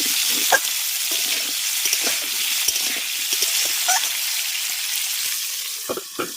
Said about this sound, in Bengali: লবণটা দিয়ে ঢাকা দিয়ে আমি সবজিগুলোকে ভেজে নেব